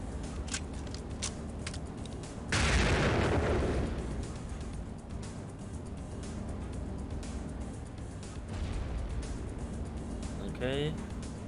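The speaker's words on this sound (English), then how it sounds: "Flashbang out." A flashbang grenade blasts in the video game Delta Force Black Hawk Down, a sudden loud burst that decays over about a second amid ongoing game ambience, with a faint voice around it.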